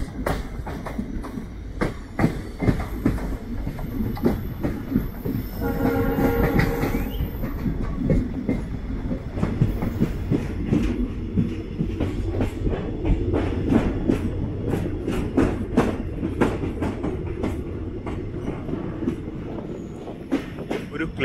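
The Madgaon Express pulls into Nandikur station with a loud, steady rumble of wagons, rhythmic clicking over the rail joints and a brief high wheel squeal early on.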